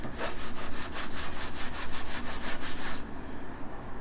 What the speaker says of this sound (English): I'm basically sanding off plasti dip or some type of coating